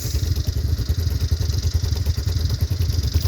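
A cold-started Honda Big Red ATV engine idles steadily without choke, a close, loud low thumping putter with a fast regular firing rhythm and light mechanical clatter, no voices over it.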